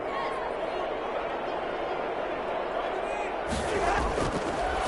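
Stadium crowd noise from a Madden NFL preseason game between the Houston Texans and Minnesota Vikings on a 3rd-and-goal play: a steady roar of many voices that swells louder near the end, with an announcer speaking over it.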